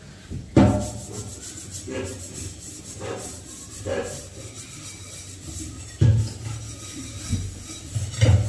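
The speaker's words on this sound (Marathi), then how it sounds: "इथं मी कढई घासून घेणार आहे शर्वेला" A kadhai (wok) gets scrubbed clean in a home kitchen, giving repeated rough rasping strokes at an uneven pace with a few louder scrapes and knocks, close up and without talk.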